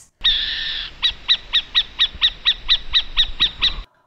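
An owl calls about a dozen times in a steady rhythm, each note a short, hoarse, screechy burst, loud and near, with no talking.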